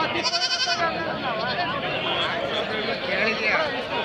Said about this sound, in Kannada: ಹೆಣ್ಣು ಮೇಕೆ ಮರಿ